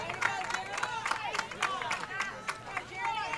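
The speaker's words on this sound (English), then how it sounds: "And the Hayes crowd like that as he threw it by Mason Montgomery" A high school baseball crowd cheers a strikeout at a Leander Lions vs. Hays Rebels game, with scattered claps and shouts rising and falling under a commentator's voice.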